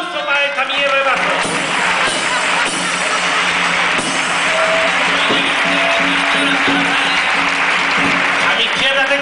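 Loud crowd applause and cheering at a live carnival-style performance, sustained clapping filling the whole stretch with voices shouting over it.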